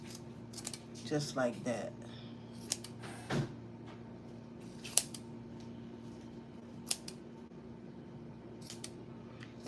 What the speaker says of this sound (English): And I'm going to cut this